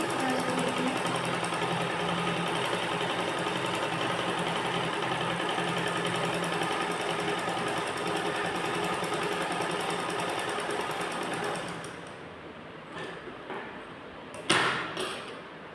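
A sewing machine stitches the front fly section of ladies' trousers in a long, steady, rapid whir up close, slowing and stopping near the end with a few brief clunks.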